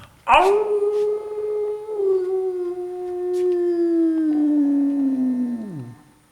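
A storyteller's voice imitates a wolf howling: one long, loud, sustained howl that starts abruptly, holds a steady tone, then slides down and fades out, alone with no talk.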